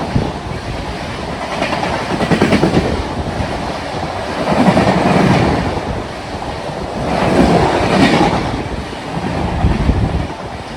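The Khandesh Express at Vapi station in the middle of the night: a loud, continuous roaring rumble that swells and fades in waves, buffeted by wind, with no voices.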